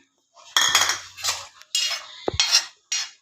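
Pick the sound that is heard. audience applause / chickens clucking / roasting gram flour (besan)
roasting gram flour (besan)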